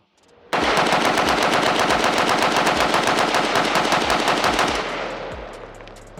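Sustained rapid automatic fire from a PSA AK-style rifle, a Type 56 clone, with a continuous burst of evenly spaced loud, close shots that runs several seconds before ending in a fading echo.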